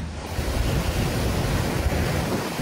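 Giant waves and strong wind battering Pio Duran Port in Albay during Super Typhoon Uwan, a loud continuous roar of surf and gusting wind buffeting the microphone.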